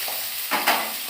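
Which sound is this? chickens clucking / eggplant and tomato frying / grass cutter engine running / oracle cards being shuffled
eggplant and tomato frying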